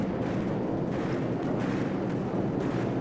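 A gunship attack in Call of Duty 4 fills the scene with a dense, sustained explosive rumble and crackling blasts, loud and continuous with no clear breaks.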